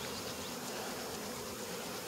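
Honeybees buzz steadily around an open hive with brood frames, a dense continuous drone heard close up with no talking.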